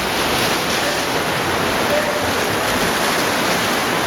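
Flood water rushing through a cave stream passage in near-flood conditions, a steady, loud, broadband roar with no breaks across the whole stretch.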